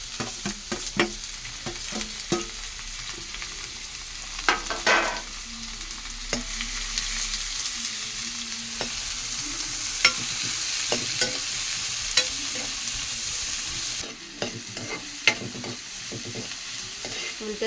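Sliced onions, green chillies and a tomato sizzle steadily in a hot pan, with a spoon stirring and scraping at intervals through the frying, close and continuous with no talking.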